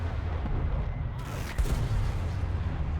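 Aircraft guns fire in a video game, a dense, continuous roar of gunfire that swells briefly partway through before settling back to a steady rumble.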